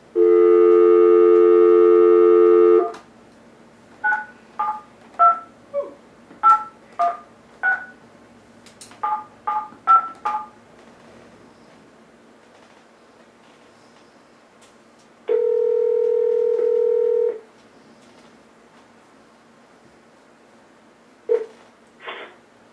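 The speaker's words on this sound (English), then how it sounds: "We're sorry, your call cannot be completed as dialed. Well, we'll try again." Telephone sounds on a call-in racing talk show: a steady dial tone, then a quick run of about a dozen keypad dialing beeps, then another steady tone and a couple of faint beeps, loud and alone with no talk.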